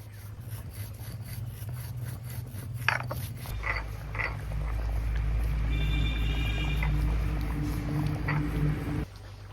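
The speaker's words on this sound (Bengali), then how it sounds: "আর এই যে সেই ভাজা জিরেটা এটা এখন আমি গুঁড়ো করে নেব" Roasted cumin seeds are ground: a few scraping knocks give way to a loud, steady droning whir lasting about six seconds before cutting off abruptly.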